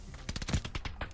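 A quick run of rapid automatic gunfire in Call of Duty Vanguard, dense and mid-distance, with a voice partly mixed in.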